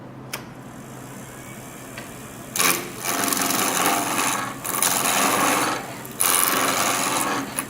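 A skew chisel cuts a spinning piece of wood on a lathe. Three long, raspy shaving passes come in loud, close bursts, with short pauses of quieter lathe running between them.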